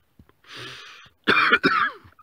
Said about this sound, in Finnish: Yskäsi kuin pahin.